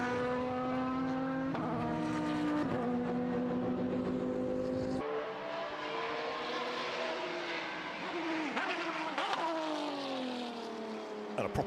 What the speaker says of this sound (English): And a proper noise, the Aston Mate on the downshift